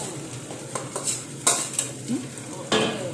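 A utensil scrapes and stirs rice in a frying pan with light clinks and a soft sizzle, several short strokes close by.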